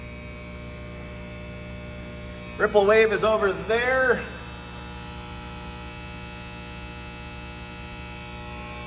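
Steady electrical hum from a Dynapower 2000 amp 12 volt industrial rectifier, a low buzzing drone throughout, with someone briefly speaking over it midway.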